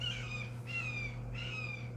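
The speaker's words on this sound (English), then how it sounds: "I got a raven." A raven gives three drawn-out, harsh calls at steady intervals, moderately distant, over a constant low electrical hum with no talking.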